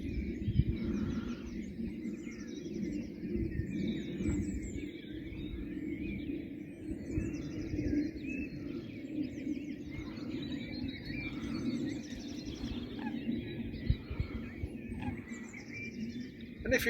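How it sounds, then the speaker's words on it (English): Wild birds singing in the early morning beside the Lancaster Canal at Glasson, several high chirps and warbling phrases repeating over a low steady background rumble, moderately distant and with no talk. "Listen to them birds."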